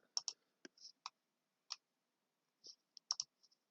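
Computer mouse buttons clicking while working in SolidWorks, a string of about a dozen crisp, close, quiet clicks at irregular intervals, some in quick pairs, with near silence between.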